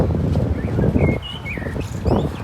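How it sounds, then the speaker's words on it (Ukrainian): Small birds chirping and trilling outdoors during a spring trip to Olomouc, Czechia, thin high calls over louder nearby rustling and footsteps. "Пташки співають."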